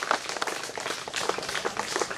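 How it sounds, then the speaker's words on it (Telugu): Audience clapping at a village ceremony opening a Rotary Club water plant, a dense, steady patter of many hands with no break across the short stretch. "గట్టిగా చప్పట్లు కొట్టాలి మీరు"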